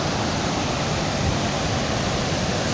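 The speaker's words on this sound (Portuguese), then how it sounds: "Olha isso, a força da água." A waterfall on a forest trail pours with dense, steady roaring rush of water, loud and close, filling the air without pause.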